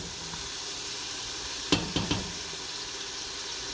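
Butter or margarine being melted in a soup pot over a steady, faint hiss of sizzling, with a few light knocks of a utensil against the pot in the middle.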